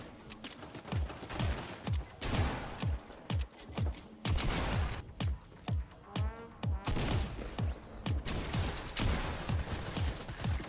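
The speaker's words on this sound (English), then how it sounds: "They have a railgun!" Gunfire in a Fortnite match, including a railgun: a steady run of sharp, loud shots in a rapid, regular rhythm, with brief pauses and little or no talk.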